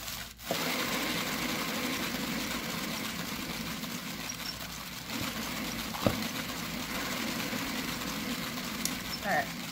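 A motorized spinner turning an acrylic pour painting gives a steady whirring hum with a few faint taps; someone talks over it.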